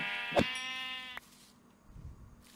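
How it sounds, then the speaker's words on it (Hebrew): A single Minecraft sheep bleats once, clear and tonal, followed by quiet in-game ambience and soft low rumbles; no voices. "זה מעולה שיש לנו כבשים"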